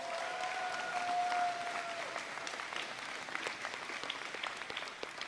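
A crowd at a Boys and Girls Club dedication applauds steadily, a dense sustained clapping that continues for several seconds.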